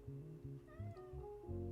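House cat meowing repeatedly up close indoors, several short rhythmic cries in a row with a longer pitched meow in the middle, quiet and alone without talk.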